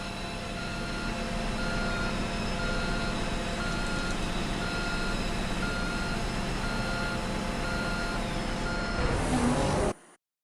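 Steady electronic reversing beeps from a Lego Technic D11T bulldozer set 42131, repeating at an even rhythm over a constant motor whir, close and loud, cutting off abruptly near the end.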